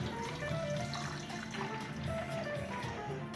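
White vinegar pours steadily into the top of a Flavia Creation C200 brewer, a continuous close liquid splash and trickle lasting a few seconds with no voices.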